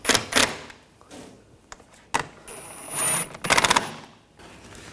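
Screws being driven in to fasten the fan shroud on a radiator from a 2013-2022 Buick Encore 1.4L L4, heard as several short bursts of rapid mechanical whirring and clicking, separated by pauses, close up and with no talk.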